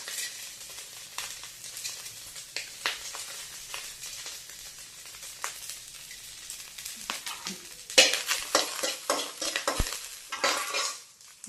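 Fenugreek seeds sizzling in a hot pan, a steady crackling hiss with scattered sharp pops and utensil scrapes, growing busier and louder toward the end.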